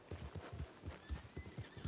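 Horse in Red Dead Redemption 2 trotting with rhythmic clip-clop hooves, about two beats per quarter second, mixed with a soft whinny, quiet and steady.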